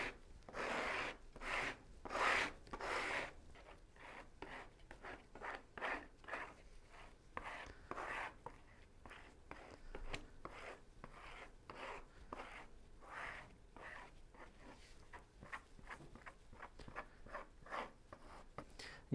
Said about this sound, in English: this distributes the thickened mixed epoxy.